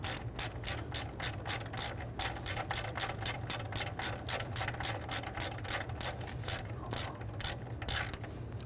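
Rapid, steady clicking of a hand ratchet tightening a nut onto a battery cable stud on a 1999-2004 Jeep Grand Cherokee 4.7L V8, close and fairly quiet with no talk.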